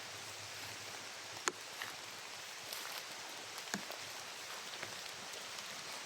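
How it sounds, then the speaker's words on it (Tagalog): Rain falls steadily outdoors, a soft, even patter with occasional louder drops, and no one speaks. "Sabi yung ulan, lalong lumalakas yung ulan mga idol."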